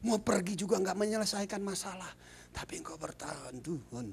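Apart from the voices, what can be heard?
No distinct noise like a dog, phone or traffic.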